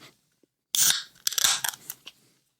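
A sharp metallic pop and hiss as a can of St. Bernardus Christmas Ale is cracked open, followed by crackling fizz and bubbling, close up with no talking.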